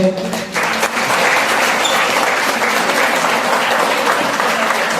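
An audience at a school award ceremony breaks into loud, sustained applause after a brief spoken moment, and the dense clapping continues steadily to the end.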